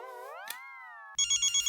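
A telephone rings in a lively household scene, a bright electronic ring pulsing in quick repeated bursts right after a brief sliding musical sting.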